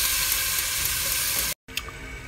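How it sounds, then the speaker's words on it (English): Vegetables sautéing in oil for tin mackerel cornmeal, a continuous loud sizzle that cuts out briefly near the end, then resumes with a light clatter. "Sauteing our vegetables. Make sure it's sauteed."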